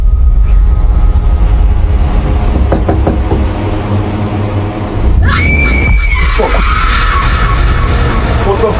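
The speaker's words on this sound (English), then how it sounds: "There was a scream and someone knocked on our door." A scream rings out from beside a room at night, sharp and high, rising partway through over steady low background noise, with rough knocking-like hits earlier and people talking.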